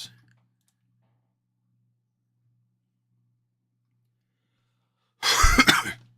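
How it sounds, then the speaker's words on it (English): A short burst of coughing from someone feeling unwell, close and loud, comes after about five seconds of near silence with a faint low hum. "If I'm coughing or I sound sick"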